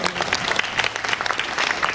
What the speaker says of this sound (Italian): Ecco, qui un applauso generale.